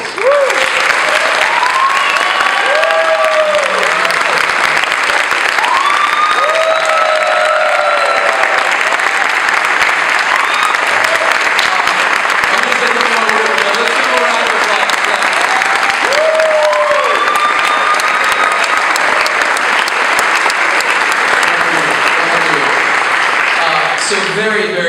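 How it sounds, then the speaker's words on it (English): Loud, sustained applause from an audience honoring young people at a community event, dense steady clapping filling the whole stretch with a voice speaking over it. "Let's give them a round of applause."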